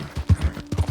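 Horse hooves clip-clopping in Red Dead Redemption 2, a quick run of distinct thudding steps in an uneven trotting rhythm, close and clear with no talk over them.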